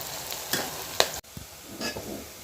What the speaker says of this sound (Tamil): வெங்காயம் தக்காளி நல்லா வதங்குது